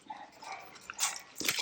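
Small yappy neighbourhood dogs let out a few short, sharp barks nearby in a brief burst, with no talking over them.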